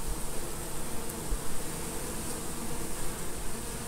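Honey bees buzz steadily around a hive after a powdered sugar shake, a dense, even, close drone with no voices.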